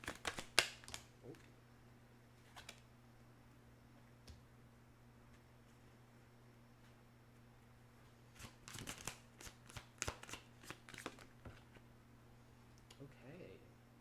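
Zodiac tarot cards shuffled and riffled by hand in a quiet room, giving scattered soft flicks and snaps near the start and a denser burst of shuffling later, with a steady low hum underneath.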